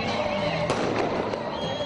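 Fireworks at a political celebration with a concert in Cizre, Turkey, crackle and pop continuously amid a dense outdoor din, with crowd noise and voices mixed in.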